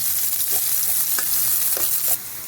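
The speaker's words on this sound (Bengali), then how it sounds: "পেঁয়াজটা একটু লাল লাল করে আমি ভেজে নেব।" Onions sizzling in hot oil close by, browning for a poppy-seed fish dish, a constant crackling hiss broken by a few soft scrapes of a stirring spoon.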